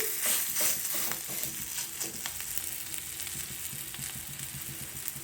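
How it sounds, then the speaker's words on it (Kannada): A geddekosu potato cutlet fries in hot oil on a tawa, with a close, steady sizzle and crackle that stays even throughout. "ಒಂದು ತವಕ್ಕೆ ಈಗಾಗಲೇ ಎಣ್ಣೆಯನ್ನು ಇಟ್ಟು ಕಾಯಲು ಇಟ್ಟಿದ್ದೇನೆ. ಅದರ ಮೇಲೆ ಇದನ್ನು ಹಾಕಿ"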